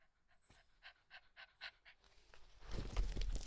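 Several dogs in a home pant in quick rhythmic bursts, about six close, soft puffs, before a louder rustling, agitated commotion takes over near the end.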